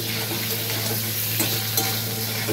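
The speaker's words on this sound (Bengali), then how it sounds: "ওই তেলে দিয়ে বন্ধুরা আমি এখানে গরম মশলা দিয়ে দিলাম দুটো, একটা তেজপাত ভাজ করে, লঙ্কা আর ছোটো এলাচ আর দারচিনি।" Whole garam masala, a folded bay leaf, dried chilli, green cardamom and cinnamon, frying in hot oil in a pan for a vegetarian Bengali dish, giving a steady, close sizzle and crackle with light stirring throughout and no talking.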